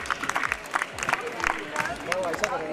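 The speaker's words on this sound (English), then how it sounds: "This is a huge round of applause, ladies and gentlemen" Audience applause at a festive opening ceremony: a dense, steady wash of many hands clapping, with crowd voices and chatter running through it for the whole stretch.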